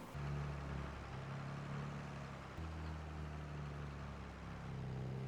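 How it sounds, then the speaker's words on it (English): A John Deere 4230 tractor engine runs in Farming Simulator, a steady low idling drone with a slight shift partway through, loud and continuous with no talk. "The 4230 is all cranked up and about to run"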